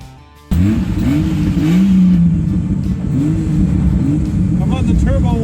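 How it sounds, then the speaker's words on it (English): A turbocharged engine warming up, loud and close, starting abruptly after a brief quiet moment and then revving with rising and falling pitch sweeps over a steady roar. "I'm on the turbo warm up."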